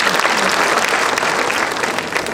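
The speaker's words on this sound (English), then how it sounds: "I think we can have a round of applause for all our dear parents." An audience at a parent–college interface event applauds the parents, a dense, loud, steady burst of clapping throughout.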